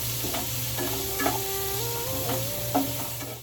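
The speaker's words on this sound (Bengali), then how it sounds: "মিষ্টি কুমড়াটা ভাজলেই হলো" Sweet pumpkin frying in a pan with a steady, loud sizzle throughout, broken by a few light utensil scrapes as the pieces are turned.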